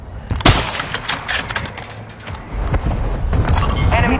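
Gunfire in a military video game: a loud close burst of shots followed by scattered bangs, distant booms and rattling fire, with a faint voice in the mix.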